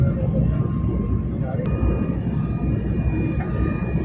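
An airplane on its landing approach into Sofia, coming in from the west over Bozhurishte: a constant cabin engine rumble and rush with a faint tonal whine, steady throughout.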